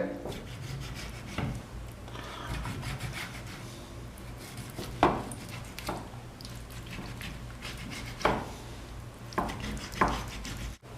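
A knife scores deep cuts into raw chicken pieces for tandoori tawa chicken, giving soft repeated rasping and scraping strokes with a few sharper knocks against the board, close and fairly quiet, with no talk.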